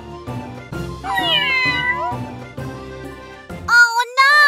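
A cartoon cat voice meows loudly in a long, wavering cry, followed by two shorter high-pitched meows near the end, set against a backdrop of children's cartoon music.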